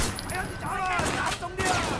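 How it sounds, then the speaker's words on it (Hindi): Rapid bursts of gunfire in the video game Sleeping Dogs crackle almost continuously over two seconds, with a voice partly audible beneath the shots. "बस गोलियां बरसाते हुए।"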